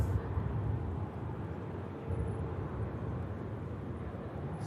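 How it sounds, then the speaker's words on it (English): Jet2 airliner climbing away after takeoff from Manchester Airport, a distant, low, steady engine rumble that eases slightly and then holds, with no talk. "Jet2 continues the climb out."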